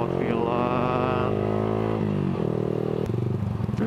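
A Yamaha R15 V3 sport motorcycle with a Villan aftermarket exhaust revs loudly up close, its raspy tone holding steady and then dropping in pitch in stepped changes.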